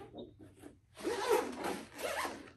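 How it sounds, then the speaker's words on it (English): A zipper is drawn shut on a black and yellow Babolat Pure Aero tennis backpack, giving two close, loud rasping pulls after a faint opening tick. "Zip it right up."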